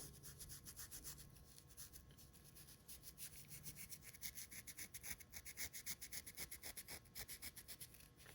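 A ClipSwitch flashlight is rubbed back and forth during cleaning, giving faint, close, rhythmic scrubbing strokes that speed into an even back-and-forth pattern.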